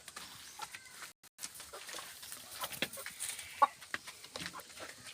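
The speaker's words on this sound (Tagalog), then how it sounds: "White leghorn yan mga lods." White leghorn breeder chickens cluck in a farm setting, with soft irregular calls and scattered bird sounds coming and going at moderate distance, no talking.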